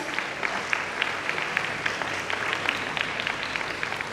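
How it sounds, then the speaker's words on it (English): An audience at an academic felicitation ceremony applauds a student, a dense, steady clapping crowd with a few sharper individual claps standing out, moderately loud throughout. "Please give a big round of applause."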